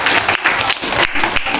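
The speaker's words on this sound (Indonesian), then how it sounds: "Tepuk tangan untuk kita semua." Applause from an audience at a school event, steady and fairly loud through the whole moment with short dips in intensity.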